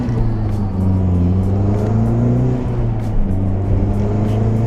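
A Mazdaspeed 3 with full bolt-on modifications accelerating with a loud intake noise, a close, steady engine drone that holds firm and shifts pitch slightly as it pulls.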